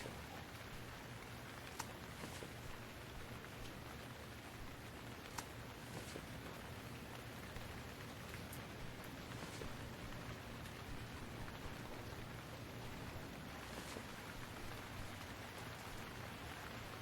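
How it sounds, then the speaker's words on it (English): Steady, dense rain falls continuously in the survival game Stranded Deep, a broad even hiss with no breaks and no voices. "Yeah, it's raining."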